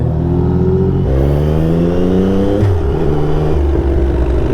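A car engine revs up repeatedly, its pitch climbing and dropping in loud, close surges.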